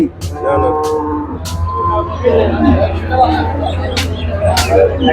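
Cows mooing at a busy cattle market during pregnancy checks, loud drawn-out moos close by over a crowd hubbub, with people talking throughout and a few sharp clattering knocks.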